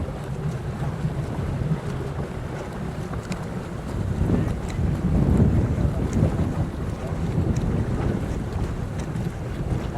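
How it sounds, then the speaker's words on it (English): Gusty wind buffeting the microphone over open water at an open water swim race, a broad steady roar that swells in the middle and then eases, with no voices. "Bit of a wind picking up."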